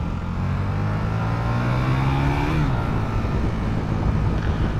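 A 2015 KTM 1290 Super Duke R V-twin with an Akrapovic exhaust revving loud and close, the engine tone climbing steadily before dropping off, then settling into a rough, throbbing rumble.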